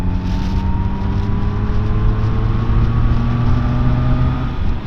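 Zontes 703RR motorcycle in sport mode pulling hard in sixth gear from about 45 toward 70 mph, a steady loud engine drone with slowly rising pitch under heavy wind roar, close and continuous.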